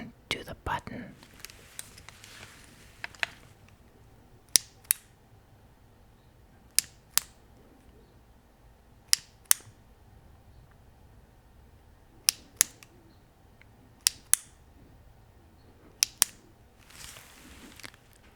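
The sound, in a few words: clicking the button of a Streamlight AR15 weapon light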